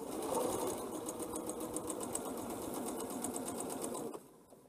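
A sewing machine stitches half square triangles in a fast, even run of needle strokes, heard close and alone before stopping abruptly.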